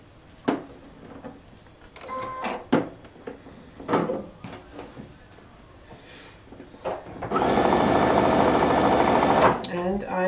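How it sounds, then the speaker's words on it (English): A sewing machine stitches quilt-as-you-go fabric strips, with scattered handling clicks and fabric shuffling before a loud, steady two-second run of the motor near the end; a voice speaks briefly. "And I just hold it and sew it down."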